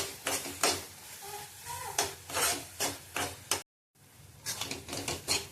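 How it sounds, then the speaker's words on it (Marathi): Coconut burfi mixture with yellow food colour being stirred and sautéed in a pan, giving a steady series of scraping and clanking spatula strokes against metal, close and moderately loud, with one brief silent gap. "परत 1 मिनिट चांगलं परतून घ्यायचंय"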